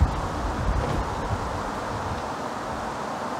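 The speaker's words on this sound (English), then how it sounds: "It's very windy today." Steady, broadband rushing of wind buffets the microphone outdoors, a constant roar with slight gusts and no voices.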